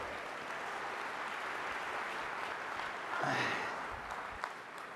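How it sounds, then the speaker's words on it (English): An audience at a tech keynote applauds a volunteer heading to the stage. The soft, diffuse clapping comes from a distance and holds steady, with a brief louder moment partway through. "give him a round of applause."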